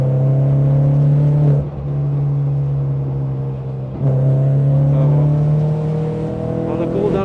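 Race car engine droning steadily on a UK track in a driving session, heard from inside the car, with a brief dip partway, loud and close.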